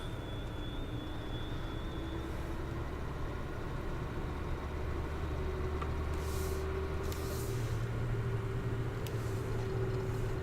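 Steady engine drone of a farm vehicle in the video game Farming Simulator 17, set in Lawfolds, Aberdeenshire, a continuous low hum with faint tonal shifts and occasional soft clicks, no talk.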